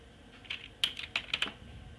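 Typing the letter G during a German lesson: a few quick, close computer-keyboard clicks in a short irregular burst over quiet room tone.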